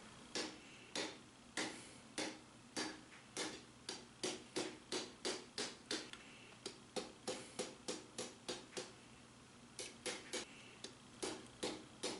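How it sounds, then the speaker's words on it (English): A hammer strikes a hot lawnmower blade being forged into a pointed sword tip, ringing out in a steady run of sharp, evenly spaced blows with brief pauses, close and clear. "Just alternating between striking the side and striking the face, and slowly drawing it out into a nice point."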